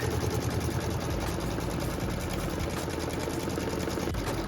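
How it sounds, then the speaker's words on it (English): A sewing machine stitches a quilt piecing template onto batting, running with a continuous, rapid mechanical whir and steady needle chatter, close and even for several seconds. "now it's stitching the template on the batting, which is so fun because it starts giving you a hint about what this block is going to turn out like"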